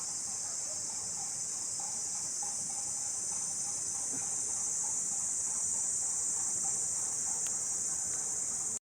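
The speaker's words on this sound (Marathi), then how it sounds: "आणि रातकिड्यांचा आवाज बघा किती" Crickets chirp in a dense, steady high-pitched drone on a clear morning in rural Rajapur, continuous and fairly loud throughout with no talking.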